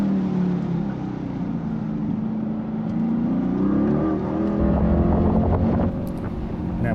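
A Corvette C8 on the track at Atlanta Motorsport Park, its engine droning steadily with a rising pitch as it accelerates, loud and close, with wind noise over the microphone and no talking.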